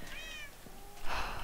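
Cats in the Minecraft video game meow, with a couple of short, high, close-up meows separated by a pause and no talking.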